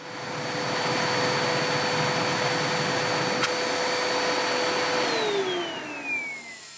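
An air blower dries a muddy mountain bike, running as a loud, steady whine with a sustained tone before it winds down near the end.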